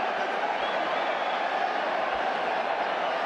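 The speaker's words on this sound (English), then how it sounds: "That's the sound you hear from this crowd." Continuous crowd roar fills a boxing arena in Glendale as spectators do the wave between punches, a broad, even rumble of many distant voices holding steady from start to finish.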